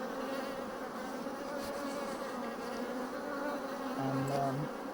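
Honeybees buzzing steadily during a swarm inspection at the hive, a dense continuous drone at moderate distance with a brief nearer buzz toward the end.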